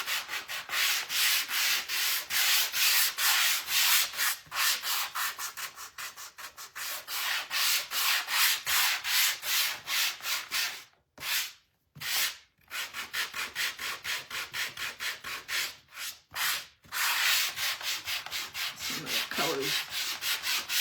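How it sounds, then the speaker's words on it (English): Sandpaper rubs back and forth over a wooden door hanger in quick, rhythmic strokes, loud and close, with a few brief pauses between passes. "Some noisy sandpaper."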